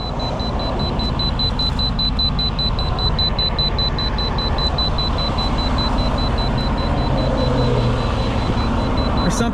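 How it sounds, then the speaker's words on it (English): A small electronic beep from a makeup item repeats in a fast, regular pulse throughout, steady and thin over a loud low rumble of traffic or engine noise. "There's something beeping right here."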